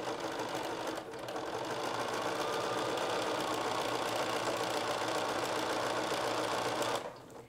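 A sewing machine back-stitches zipper tape on a bolster pillow, running in a steady fast mechanical whir for several seconds after a brief pause near the start, close and alone, then stops near the end.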